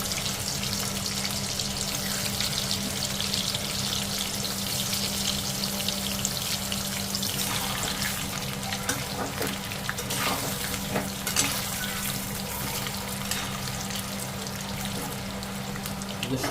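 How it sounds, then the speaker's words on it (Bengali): Potatoes fry in a generous amount of hot oil, giving a steady, close, dense sizzle that runs unbroken for the whole stretch. "বড় আলুটা এক এক করে দিয়ে প্রথমে ভেজে নিতে হবে"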